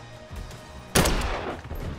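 A single sharp gunshot bursts out in the zombie video game Dead Island 2, loud and close after a quiet lead-in, followed by a fading noisy tail.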